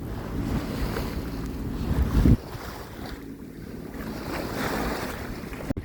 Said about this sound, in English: Just sail with the head sail and the mainsail.